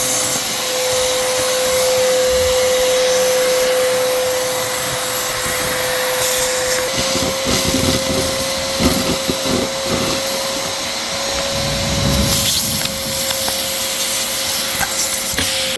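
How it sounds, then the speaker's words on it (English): Loud, steady roar of a vacuum cleaner hose sucking through a transmission funnel on a 1972 Dodge truck, with a constant whine and rough scraping bursts as the nozzle shifts, running throughout without speech. "take your vacuum hose, shove it down in here."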